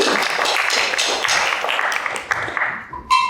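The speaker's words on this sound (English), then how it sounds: "let's clap for Rian" An audience at an Afro-Brazilian music concert claps steadily for a volunteer picked to play the bell, a dense even patter that thins out near the end before a brief bright ring.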